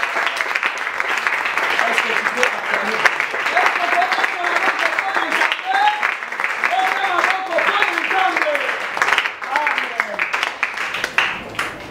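Church congregation at a Sunday service applauding and cheering for God, a dense, steady wash of clapping and raised voices filling the room throughout, loud and sustained without any break.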